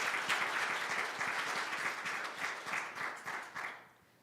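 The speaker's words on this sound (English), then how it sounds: "If we could give both of them one more round of applause," A story-night audience gives a warm round of applause, a dense patter of many hands clapping nearby that holds steady and then tapers off to quiet.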